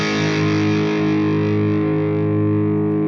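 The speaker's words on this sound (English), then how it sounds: "let's go ahead and bring in the tube screamer and see what we get." A guitar tone runs through a Tube Screamer overdrive pedal in Bias FX Desktop software, a sustained, thick distorted chord ringing steadily at full level for about three seconds with no voices.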